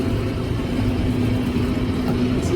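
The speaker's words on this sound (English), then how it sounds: "Raking hay, just cruising along here about 5 miles an hour." A Workmaster tractor pulling an old, worn Sitrex 8-wheel hay rake across a rough field at about 5 mph gives a steady mid-pitched engine drone with a faint tonal hum, close and continuous, no talk.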